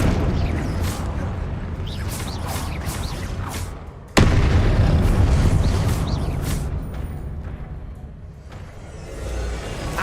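Confringo blasting spell in Hogwarts Legacy: a sharp, loud burst at about four seconds, with booming blasts and rumbling combat noise before and after it.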